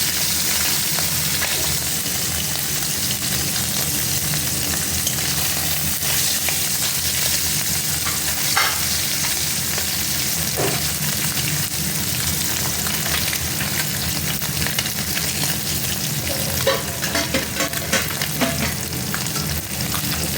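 Morola fish frying in hot oil in a kadai, a loud steady sizzle with crackle and occasional stirring clinks running continuously throughout.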